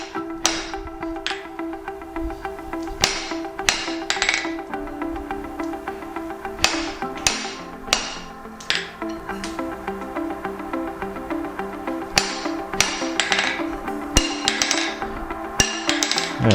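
Stock tongs being forged on an anvil ring with steady, rapid hammer blows close by, sharp metallic strikes repeating throughout with brief pauses between bursts.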